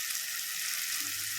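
Mint and coriander sizzle and fry steadily in a hot pan for a mutton biryani masala, a continuous close hiss with a faint stir near the end.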